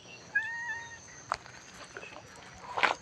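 A cat meows outside a monk's residence at Wat Pong Chai temple in Chae Hom, Lampang, Thailand, giving a clear, faint, drawn-out call early on and a shorter, brighter cry near the end against a quiet morning background.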